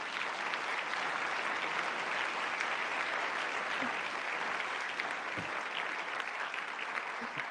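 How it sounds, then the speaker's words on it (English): Sustained applause from an audience at a plenary session of the Arizona-Mexico Commission, a dense steady clatter of many hands filling the room at even loudness throughout, with no talking. "just a resounding round of applause"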